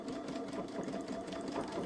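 A Baby Lock Solaris sewing machine darning a torn patch of fabric with its buttonhole foot, giving a steady rapid mechanical whir of stitching, close and even throughout with no talk.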